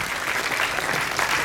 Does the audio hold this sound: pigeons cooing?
no